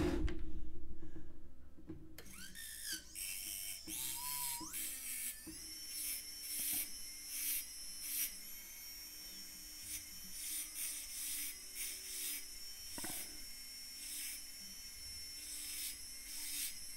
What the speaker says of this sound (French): Vous pouvez y aller à la lime directement.